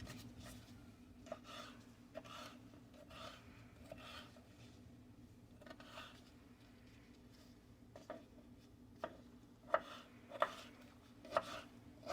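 A knife rough-chops jalapeno peppers on a cutting board, with a series of crisp, close taps at an uneven pace, quieter at first and sharper in a quicker burst near the end.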